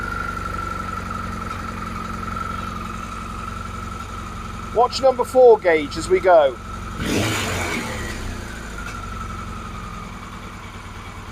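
Carburettored engine idling steadily under a voice, with a brief burst of sharp mechanical clicks and a short rise in revs before settling back to a constant hum as the idle is turned down.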